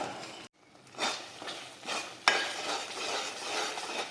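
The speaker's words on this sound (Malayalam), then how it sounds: "അപ്പോൾ ഇത് ഞാനിങ്ങനെ ഇളക്കി ഇളക്കി ഇളക്കി ഈ പറ്റിച്ചെടുക്കാം" A spoon stirs a dry ginger medicinal coffee mixture in a pan, giving soft repeated scraping swishes with light sizzle, quiet and close with no talking.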